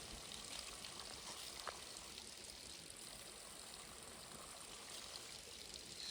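A waterfall pours steadily at a roadside stop, a continuous broadband rush of falling water that stays even and fairly close throughout, with no voices.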